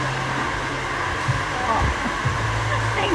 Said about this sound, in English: so you're gonna wash and a blow dry.